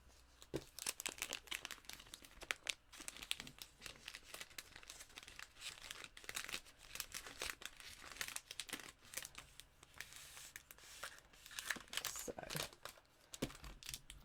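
Stampin' Up masking paper being handled up close, with repeated crinkling and rustling bursts and soft tearing-like crackles in an irregular rhythm, fairly quiet, with no talking.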